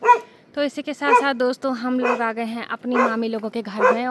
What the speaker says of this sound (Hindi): और यहाँ पे कुत्ता भी भौंक रहा है